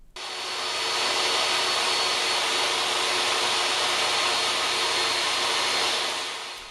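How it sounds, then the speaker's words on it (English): A DeWalt DWE7485 table saw runs steadily through 3/4 inch plywood, a loud, even whine that swells in after a short start, holds without bogging down for several seconds, then fades as the cut ends. "it cuts 3/4 inch plywood without a hitch and doesn't slow down"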